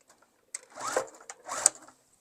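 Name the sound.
sewing machine sewing around a tote bag seam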